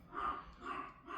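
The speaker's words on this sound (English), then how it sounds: "Sorry if you hear my dog barking." A dog barking, heard faintly from some distance as three muffled, evenly spaced barks across a brief moment.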